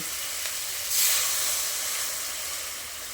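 Water hits sizzling spice masala in a pan and sets off a sudden loud hiss of steam. The hiss then fades slowly into a steady, softer sizzle, with no talking.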